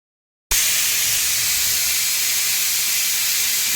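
Steam bursts from a kitchen pressure cooker's whistle valve, a sudden loud, close hiss that starts sharply after a moment of silence and holds steady without letup, with no voices.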